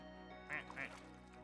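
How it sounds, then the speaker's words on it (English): A rubber duck toy gives two short quacks in quick succession, faint and close, against a quiet background hum. "that one just makes quack."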